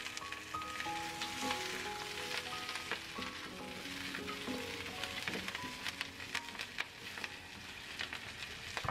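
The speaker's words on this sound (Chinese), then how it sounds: "往锅里放入葱姜进去炒出香味， 再倒入排骨进去翻炒均匀。" Pork ribs stir-frying in a hot wok with scallion and ginger, a steady loud sizzle and crackle with scraping spatula strokes running throughout, no voices.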